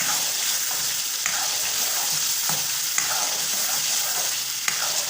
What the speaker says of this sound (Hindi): मैं फुल आंच पे भून रही हूँ